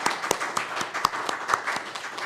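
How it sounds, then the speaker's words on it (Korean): A church congregation at a Korean Nazarene service claps in welcome, a short, even round of applause with distinct sharp claps standing out from the crowd. "환영의 박수를 쳐주시기 바랍니다."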